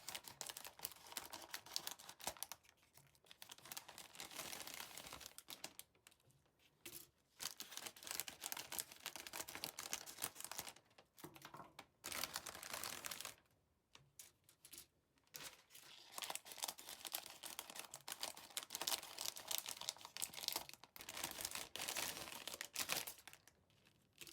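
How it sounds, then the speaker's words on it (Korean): A plastic bag around a Bandai Zaku model kit is opened and handled, giving close, quiet crinkling and rustling in irregular bursts with brief pauses. "그럼 이제 비닐로 봉다리를 열어보겠습니다."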